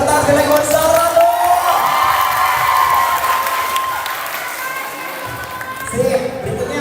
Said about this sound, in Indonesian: tepuk tangan sekali lagi buat Zahran dong